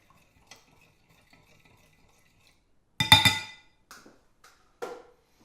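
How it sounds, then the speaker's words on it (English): Blood orange hot pepper sauce ingredients are stirred together in a bowl, giving a short burst of clinking and wet mixing, followed by a few lighter taps and scrapes amid quiet pauses. "Give that a good mix around."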